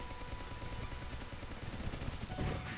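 Rapid gunfire rattles from aircraft guns in the aerial combat video game Sky Rogue. Quiet, continuous machine-gun bursts run for the whole stretch and swell slightly at the end.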